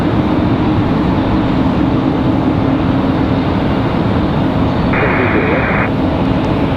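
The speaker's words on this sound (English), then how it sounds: "There's our CRJ from JFK." An Endeavor CRJ jet arriving from JFK at Raleigh Durham airport makes a loud, continuous engine roar that fills the whole stretch, with a brief higher tone partway through.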